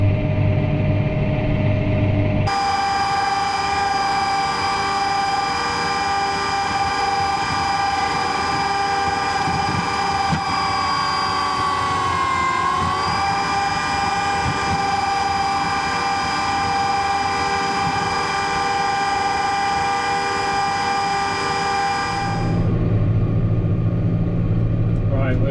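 A tractor drives home from the dealer's yard towing a newly collected machine. A steady, loud engine drone and rumble holds unbroken for about twenty seconds, with a whining tone that wavers briefly midway.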